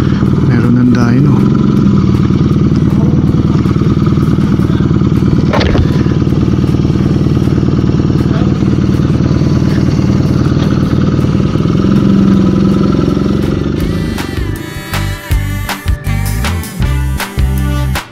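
BMW R nineT motorcycle, left unused for five months without a battery tender, runs with a steady loud close engine drone that shifts into uneven revving and clatter near the end, while people talk over it.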